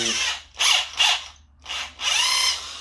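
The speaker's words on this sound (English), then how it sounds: "just gonna go through with our spot weld drill and drill them out" A spot weld drill cutting out spot welds in a Ford Fiesta ST inner quarter panel, three separate bursts of high grinding whine with short pauses between, close and loud.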